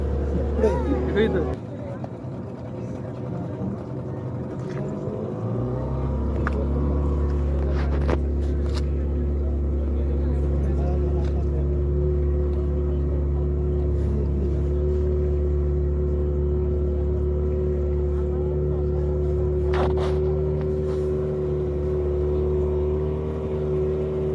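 A motorboat engine drones steadily on a sea safari boat ride off Chivla beach in Malvan, a loud continuous low hum that picks up after a brief dip, with voices talking over it throughout.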